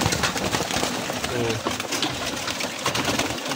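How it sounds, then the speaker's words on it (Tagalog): A flock of pigeons pecks hungrily at scattered feed, making rapid, irregular tapping clicks up close, mixed with soft cooing. Faint voices sit in the background. "Parang mga pirahan na itong mga kalapati natin na ito."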